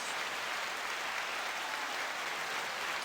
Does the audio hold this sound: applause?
yes